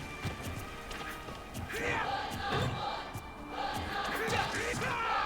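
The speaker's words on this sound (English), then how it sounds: "Gets a little cheer from the crowd, and that's game!" A crowd cheers and shouts in a fighting video game match, a mid-level roar swelling and falling with thumps and hits mixed in, heard under lively commentary from a speaker.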